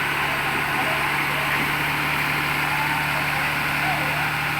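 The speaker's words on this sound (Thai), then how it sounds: "ก็จะใช้ เครื่องยนต์10ล้อนะครับเครื่อง10ล้อ มาปั่นเครื่อง เคฟนะครับ" A ten-wheel truck engine drives a rubber creping machine, producing a steady, continuous droning hum with a low mechanical rumble that holds constant throughout.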